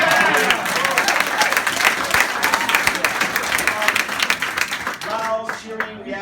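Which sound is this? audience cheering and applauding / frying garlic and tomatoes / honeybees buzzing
audience cheering and applauding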